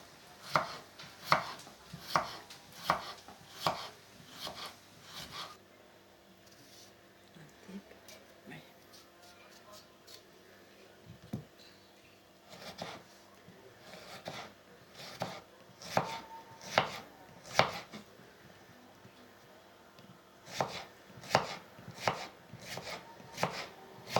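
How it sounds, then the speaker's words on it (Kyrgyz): A knife chops vegetables thinly for a summer salad on a board, with steady rhythmic cutting strokes in bursts, close and clear, pausing briefly midway before resuming. "Жукарак кылып кесебиз."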